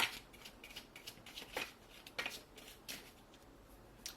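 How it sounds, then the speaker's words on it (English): Tarot cards being given a quick shuffle, a series of soft crisp riffling and flicking bursts at close range, quiet, with no voices. "I have already shuffled the cards, but I'm just going to give it a quick shuffle again."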